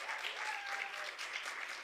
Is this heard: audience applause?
yes